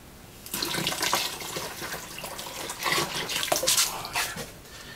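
Shino glaze poured into a pot during glazing, a steady liquid splash and trickle with surging and easing flow over several seconds, close and fairly loud.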